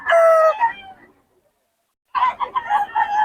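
A bullstag rooster crows loudly and close at a farm, one long crow followed by a pause and a second burst of crowing with clucking notes.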